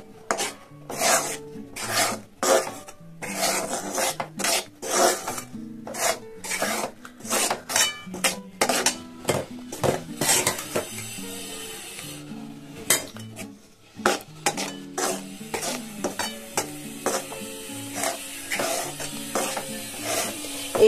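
Rice flour is worked bit by bit into date palm jaggery for arsha, with rhythmic scraping and rubbing of a utensil against a pot in quick bursts, pausing now and then, close and fairly loud.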